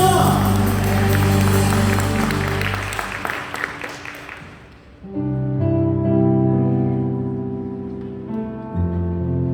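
Applause at a Friday night church worship service rises over sustained organ-like music, then fades away as the music carries on alone.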